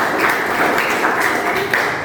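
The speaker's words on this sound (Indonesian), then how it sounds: "Bagus, tepuk tangan untuk kalian" Schoolchildren in a classroom clap together in a brief, lively burst of applause, full and continuous from start to finish without talk.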